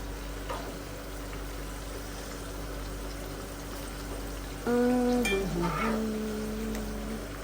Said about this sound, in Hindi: यहाँ पे मेरे पकौड़े फ्राई हो रहे हैं